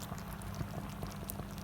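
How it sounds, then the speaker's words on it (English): A broth with salmon, zest and chilli bubbles in a pan over a gas flame, giving a soft, continuous pattering simmer heard close and faint, without speech. "how that's just bubbling away in the pan"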